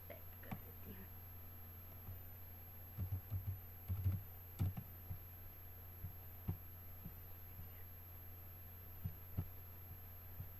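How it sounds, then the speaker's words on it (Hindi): Typing on a computer keyboard while a color name is entered into a text box, with scattered soft key clicks in short bursts over a steady low hum, fairly faint and close. "टाइप कर देती हूँ।"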